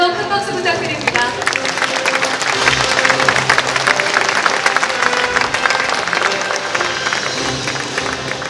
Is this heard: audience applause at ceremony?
yes